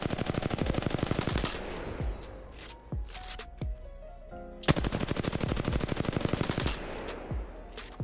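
Rapid automatic gunfire from R99 and R301 weapons in the video game Apex Legends, loud sustained bursts of shots separated by brief pauses, with a quieter stretch of fading echoes and clatter in the middle.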